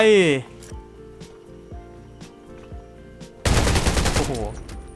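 Gunfire in the shooter video game Undawn: single shots crack out at a regular pace, then a loud, sustained burst of rapid fire follows. A voice speaks briefly at the start and again near the end.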